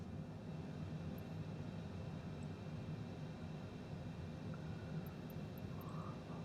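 Simulated turbofan engine of a Cessna Citation CJ4 business jet spooling up in Flight Simulator 2020, a steady low rumbling drone with faint clicks above it, heard alone without talk.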